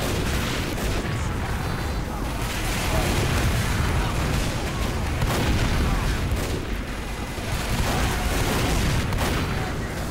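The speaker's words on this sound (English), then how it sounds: "the sentry explosions here" Sentry explosions in a video game form a continuous, dense barrage of booms and blasts, loud and layered with no pause across the whole stretch.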